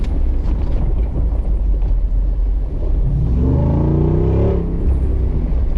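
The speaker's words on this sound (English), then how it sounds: "having the top down, is you can really hear the engine" A loud, rumbling 2024 Jeep Wrangler 392 engine close by with the top down, low droning throughout and a rising rev partway through as it accelerates off-road on a mountain.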